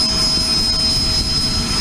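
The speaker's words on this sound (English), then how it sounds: "It's a Learjet, it's a really big plane." A Learjet jet aircraft at Aurora Municipal Airport, a loud, sustained roar with a high steady whine on top, close and continuous with no speech.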